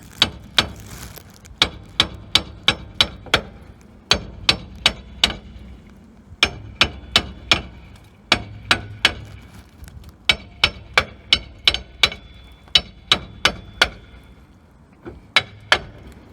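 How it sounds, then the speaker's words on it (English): Sharp metallic hammer blows strike the brake drum on an LDV Maxus van to free it, landing in quick bursts of four or five hits separated by short pauses, close and loud with no talk. "grip it with your hand and hit it on the other side of the drum"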